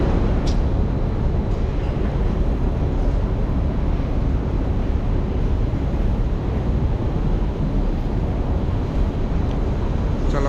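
A train on the Istanbul airport line at a station gives a loud, steady broadband rumble with wind-like hiss that continues unbroken throughout, with no voices.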